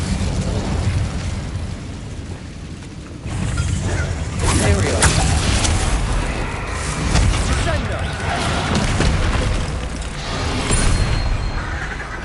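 An Incendio fire spell cast in Hogwarts Legacy erupts as a loud, roaring whoosh of flame that sustains and swells over several seconds, with crackling bursts layered on a rumbling background and a voice speaking partly over it.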